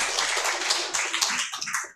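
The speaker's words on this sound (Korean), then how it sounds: "박수 한번 부탁드립니다" An audience at a weekend church revival meeting claps in a burst of applause, a dense patter of hand claps close by that fades out toward the end.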